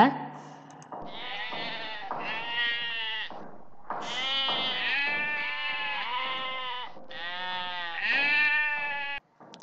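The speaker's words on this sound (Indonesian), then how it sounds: "Kita dengarkan suara wedus ya, dirungokke ya." A goat's bleating played from a recording, a series of loud, drawn-out wavering bleats in quick succession that continue almost without a break, close and clear.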